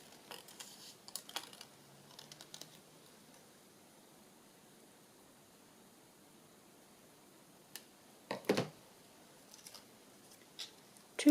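Scissors cutting paper for a collaged wedding journal tag give a few short, crisp snips and rustles, close but faint, separated by long quiet stretches.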